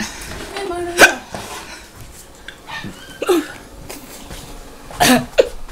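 Several sharp hiccups from a person, spaced irregularly over a few seconds with brief vocal sounds between, close and fairly loud against quiet background noise.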